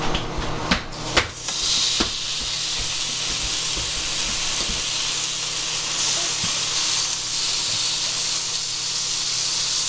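Bacon sizzles on a George Foreman grill in a loud, steady hiss, with a few sharp pops and clicks near the start and the frying continuing evenly up close.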